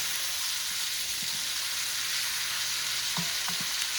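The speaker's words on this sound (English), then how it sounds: "I'm going to let this fry." Food frying in a pan with butter while potatoes are being made, a loud, dense, continuous hiss of sizzling oil with a few faint knocks near the end.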